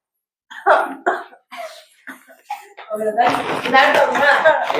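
Several short, sharp coughs come in bursts near the microphone, followed by a denser stretch of mixed noise.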